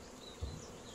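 Honey bees in a pavilion holding 25 hives give off a soft, continuous buzzing drone, faint and steady, with a brief low thump partway through.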